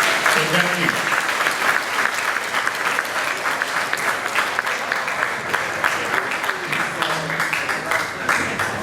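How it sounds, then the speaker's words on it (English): Big round of applause from a Hall of Fame induction ceremony crowd, sustained dense clapping at moderate distance with a few brief voices audible beneath it. "Let's give all the past inductees a big round of applause for voting for this year's inductee."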